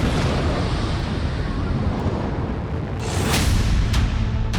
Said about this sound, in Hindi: बस स्टैंड पर खड़ी बस में धमाका।